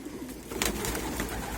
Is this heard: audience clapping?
no